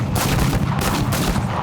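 A flamethrower spraying at infantry in a video game, a dense roaring, crackling rush of fire with rapid pulsing bursts, loud and close for a brief moment.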